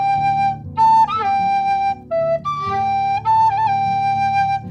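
A Susato Kildare low G pennywhistle plays a short melody of sustained, clear notes, rising into the second octave, where some higher notes crackle slightly. The playing is close and steady, with no voices.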